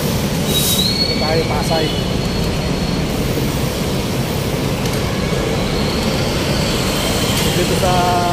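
An LRT light rail train in Pasay rumbles past loud and close, with metallic wheel squeals rising over the constant roar while someone talks over it.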